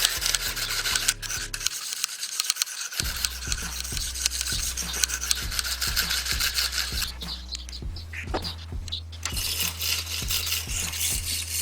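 A knife is sharpened on a sharpener with the blade clamped tightly in place, giving repeated rubbing, rasping strokes over a low mechanical hum, close and steady, with a brief quiet gap early on.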